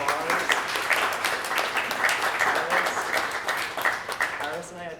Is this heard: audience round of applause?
yes